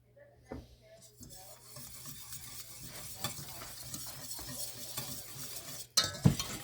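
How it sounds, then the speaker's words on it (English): A spoon scrapes and stirs a roux of equal parts flour and fat in a pan for turkey gravy, with soft sizzling under rhythmic scraping and a sharp clink of metal near the end, quiet and close. "you want to keep on moving the whole time you cook this roux"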